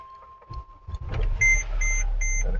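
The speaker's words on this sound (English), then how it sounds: "Got the car running." A Mercedes-Benz R350 Bluetec (2011) diesel engine idles after injector replacement, a steady low rumble rising after a few quiet knocks and clicks, with short repeating dashboard beeps over it.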